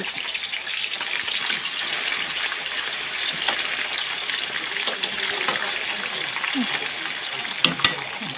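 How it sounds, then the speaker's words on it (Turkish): Food frying in hot oil gives off a steady crackling sizzle, with occasional louder pops and the clink of a utensil. "güzel güzel kızarsın bakalım kızartmaları."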